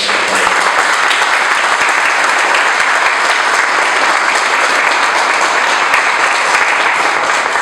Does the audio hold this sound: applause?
yes